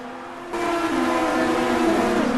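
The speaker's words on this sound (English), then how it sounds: "On board now with Costa back in the Bugatti" On-board sound of a Bugatti race car during a Spanish Grand Prix, its engine note jumping to a loud, steady high drone after half a second and holding there.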